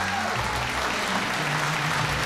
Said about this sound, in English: I'd like to hear a very nice round of applause for Stacy and Christina.